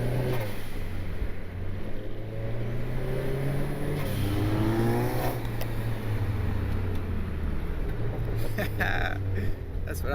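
Turbocharged Honda Civic pulling hard at wide open throttle on a road, a loud steady engine drone rising in pitch across the run with a brief shift midway, heard from inside the car alongside talk.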